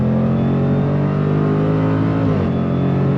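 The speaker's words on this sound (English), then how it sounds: "when it shifts, you get that nice burble from the exhaust" A Jaguar F-Pace SVR merges onto a highway under throttle, its engine droning loud and steady from inside the cabin, with a brief dip and burble from the exhaust as the gearbox shifts.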